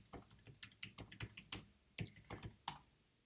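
Typing on a computer keyboard: a quiet, irregular run of close key clicks and taps, with short pauses between bursts and no voices.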